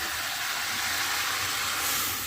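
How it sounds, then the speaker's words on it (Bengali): Water poured into a pot of boiled chicken, papaya and potato curry gives a loud, steady rushing hiss that holds evenly throughout the short clip. "আমি এখন পানি দিয়ে দেবো"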